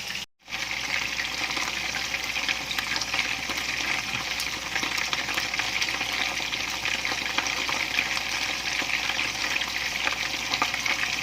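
Oil frying jengkol balado hisses and spatters in a steady, dense sizzle from start to finish after a short gap, close and constant with no voices.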